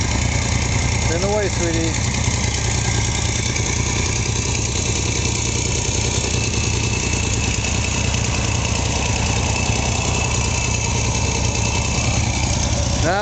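A motorcycle engine idles steadily and close by for the whole stretch, a constant low rumble with slight knocking vibration, while a child and an adult talk over it briefly.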